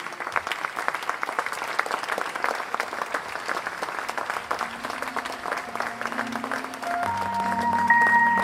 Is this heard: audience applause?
yes